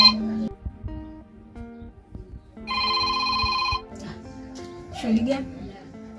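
A mobile phone rings with a single sustained electronic tone burst in the middle of a domestic drama scene, heard under and between people talking.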